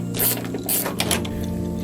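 A ratchet fitted with a 10mm socket loosens an airbox bolt on a Lexus IS 350, giving a few bursts of quick clicking over a faint steady hum, close by.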